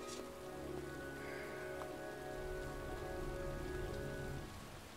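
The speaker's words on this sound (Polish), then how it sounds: "Jest zimno, pada deszcz, a ja stoję na dworze cały przemoknięty." Steady rainfall in the video game Heavy Rain, a dense continuous hiss of drops hitting surfaces, moderately loud and even throughout with faint tonal background music underneath.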